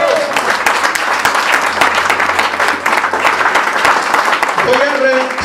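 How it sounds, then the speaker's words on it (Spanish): A church congregation breaks into sustained, loud applause during a Spanish-language sermon, dense clapping filling the whole stretch with a brief voice near the end. "Aplauda el nombre de Cristo."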